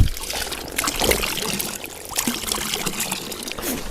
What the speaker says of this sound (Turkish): Bizde şöyle buz gibi kar suları akıyor kıymetli dostlar.